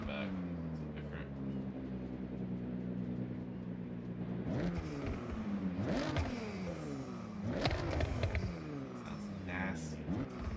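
A car engine in Forza Horizon 6, played on a wheel with clutch and shifter, hums steadily before rising into repeated sharp revs, each climbing and falling in pitch, loud and close with a voice talking over it.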